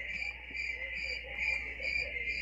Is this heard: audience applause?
no